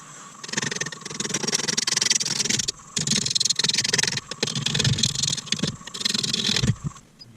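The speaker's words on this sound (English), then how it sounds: "I'm just turning at 250 RPM at the moment until we've balanced it out a little bit" A wood lathe turns a bowl blank at a slow 250 RPM while a tool cuts it, producing a rough, continuous scraping drone with a pulsing rhythm and one brief pause, heard up close and without talk.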